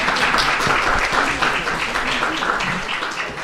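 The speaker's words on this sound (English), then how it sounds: "Another big round of applause for our actresses" Audience applause for actresses at a temple gathering, dense sustained clapping from a room full of people, loud and steady, tapering a little at the close.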